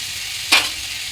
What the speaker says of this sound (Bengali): তো ডাইলের মধ্যে আমি দিতেছি ঘি,